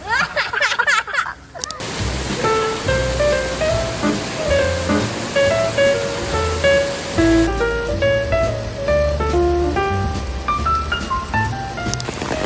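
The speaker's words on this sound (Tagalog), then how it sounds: "Ang lakas ng ulan." Heavy rain makes a steady, dense hiss through most of the clip, heard under louder music that carries on throughout.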